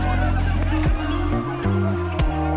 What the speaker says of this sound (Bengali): মোট 6টা হাঁস ছাড়া হয়েছে এই পুকুরে।